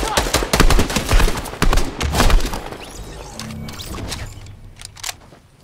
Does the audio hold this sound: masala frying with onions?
no